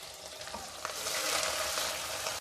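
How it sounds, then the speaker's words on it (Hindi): Sliced onions go into 5 to 6 tablespoons of hot oil in a pan and fry with a loud, steady hiss that swells as they hit the oil and continues close up. "अब ये जो मेरे पास स्लाइस प्याज है इसको शामिल कर देते हैं।"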